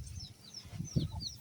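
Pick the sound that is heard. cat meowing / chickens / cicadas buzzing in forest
chickens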